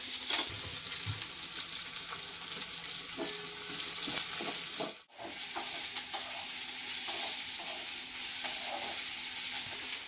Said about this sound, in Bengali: দেখো বন্ধুরা দেখতে পাচ্ছ আমার পেঁয়াজটা ভাজা ভাজা হয়ে গেছে